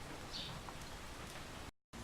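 Rain falling outside on a wet day, a steady soft hiss of drops heard faintly from indoors, broken by a brief moment of silence near the end.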